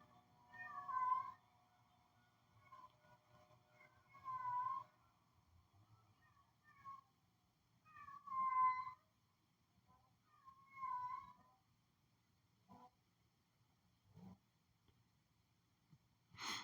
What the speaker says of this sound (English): That's just a goddamn cat. Goddamn cat in heat